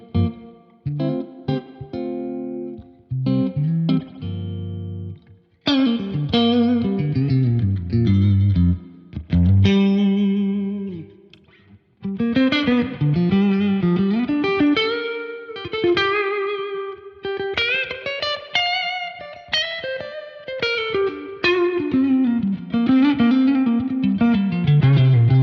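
An electric guitar runs through a Tone King Imperial tube preamp with the reverb dwell turned all the way up. Phrases of notes bloom into long, washing ambient tails, played alone with no voices.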